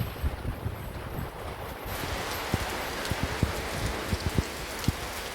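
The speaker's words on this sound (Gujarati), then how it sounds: "આ વરસાદ આ અમારું ઘર છે આ ફળિયું છે બહુ જ વરસાદ" Heavy rain pours onto a house courtyard in a village, a steady broadband wash with scattered sharp drop impacts and splashes close by, no voices.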